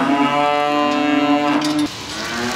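Single long, loud moo from a dairy cow during a veterinary check, a sustained nasal call close to the microphone that breaks off abruptly, followed by quieter barn background.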